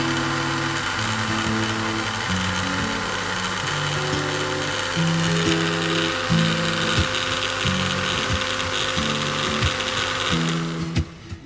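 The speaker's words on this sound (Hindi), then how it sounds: "बस इसको 1 ही मिनट ग्राइंड करते हैं।" A kitchen grinder blends cold coffee with ice cream, whirring steadily and loudly throughout with rhythmic shifts in pitch as the jar churns, cutting off abruptly at the very end.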